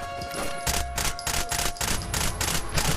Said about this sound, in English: This thing is the worst fucking SMG I've ever seen.